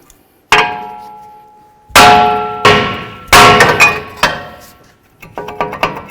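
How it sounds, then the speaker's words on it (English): A hammer strikes the braking surface of a front brake rotor on a 2013-17 Honda Accord, giving several loud, ringing metallic clangs spaced irregularly, each decaying slowly, then a cluster of quicker lighter hits at the end. "Now we're going to continue on with a hammer, and you can give it a couple bonks on the braking surface"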